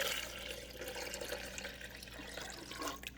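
Water pouring into the reservoir of a DeLonghi espresso machine: a faint, continuous hissing splash that runs steadily throughout without pause, close by and quiet.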